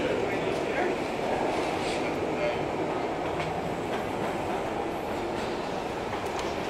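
A train pulls away from a platform with a steady rumbling roll and faint rhythmic wheel clatter, the rumble holding loud and constant throughout with no clear speech.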